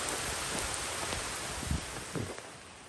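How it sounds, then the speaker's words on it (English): Heavy, steady rain falls on a muddy trail during a long race, a dense broadband hiss with a few muffled thumps and rustles close by. "Going on 4 hours of rain."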